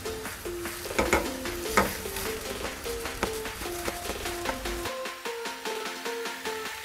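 Onions frying in a pan until light brown: a soft sizzle with a few scraping stirs sits beneath a louder stepping instrumental melody that carries through the whole stretch.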